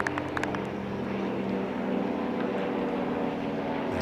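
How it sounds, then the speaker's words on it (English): A propeller airplane drones steadily overhead above a cricket ground in Milan, with a loud, sustained hum and low rumble throughout. A few faint clicks sound near the start. "there's a plane going overhead"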